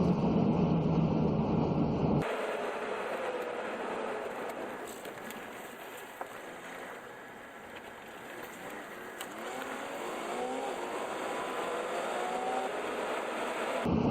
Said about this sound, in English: I can hear it driving slow too.